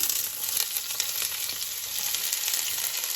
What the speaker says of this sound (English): that sizzle is what you want to hear when you add these onions to the pot